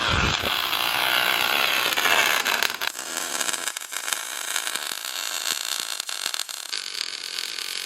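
Welding on a caravan floor renovation produces a loud, continuous crackling hiss with sharp pops and sputters, harsh and up close at first, then settling into a lower, broken crackle.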